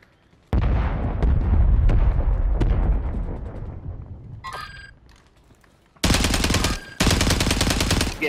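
Loud bursts of automatic gunfire in Call of Duty Warzone on Rebirth Island: a long rattling volley that fades out, then two more sharp, close, sustained bursts near the end, with no talk.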